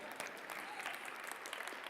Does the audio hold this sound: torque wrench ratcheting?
no